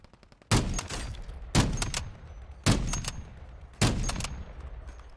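Four evenly spaced bursts of gunfire from the Call of Duty video game, each a sharp loud onset trailing off over about a second, heard alone without voices.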